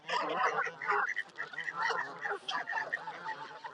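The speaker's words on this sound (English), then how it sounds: "The squirrels and the ducks are fighting over everything." Ducks and geese quack and honk in a busy, overlapping clamour at a park pond in Queen's Park, Longton, Stoke-on-Trent, heard at moderate distance and fairly quiet, with some voices in the mix.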